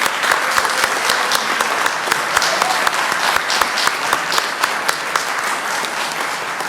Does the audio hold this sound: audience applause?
yes